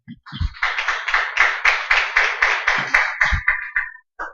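Church congregation applauding in welcome at the start of a Spanish-language sermon, a steady run of rhythmic claps close by, pulsing about every quarter second for roughly four seconds before stopping.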